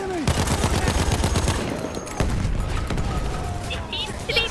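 Rapid automatic gunfire from the World War I shooter Battlefield 1, a dense burst of repeated shots followed by scattered explosive thuds and battlefield din, loud and close, with a voice talking over parts of it.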